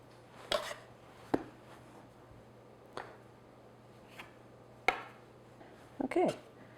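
Pizza dough is cut on a floured surface with a knife or bench scraper, giving several sharp separate taps and scrapes spaced about a second apart over a quiet background hum, with a faint voice near the end.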